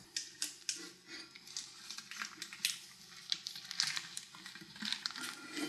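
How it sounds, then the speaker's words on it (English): Sticky homemade bologna meat mixture squeezed from a plastic bag into a canister, giving crinkly plastic rustles and wet squelching clicks in an irregular series of close, sharp bursts. "since I've already got all of this meat in this plastic bag anyway, I might as well just squeeze it out of here right into the thing"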